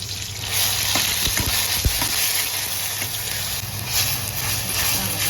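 Onion paste frying in oil with black pepper, cloves, cardamom and bay leaf for a mutton kaleji masala, a loud continuous hiss and sizzle with a few brief stirring knocks early on, close with no voices.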